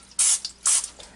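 Two short hissing bursts of olive oil cooking spray misted over a Butterball turkey breast for a Ninja Foodi Deluxe, close and loud with a brief gap between them.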